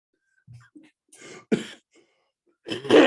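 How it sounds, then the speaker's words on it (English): A man coughs close to the microphone, a few short throat-clearing sounds followed by a sharp cough and then a heavier, louder cough at the end. "Sorry for the cough"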